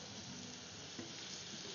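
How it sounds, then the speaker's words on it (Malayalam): Sliced Robusta bananas fry in melted butter in a pan, giving a steady, close sizzle with no pauses and no talk. "ഈ വെണ്ണയിൽ കിടന്ന് ഇതൊന്ന് ഫ്രൈ ആവണം."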